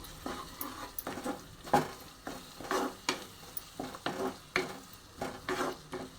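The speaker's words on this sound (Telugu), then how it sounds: "ఆయిల్ కొంచెం పైకి తేలాక కొంచెం జింజర్ గార్లిక్ పేస్ట్ వేయండి కొంచెం దాన్ని కొంచెం అటు ఇటు కలిపేసి" Ginger garlic paste frying in oil for a paneer curry is stirred back and forth, giving soft rhythmic scraping strokes over a faint sizzle, close and quiet, with no voices.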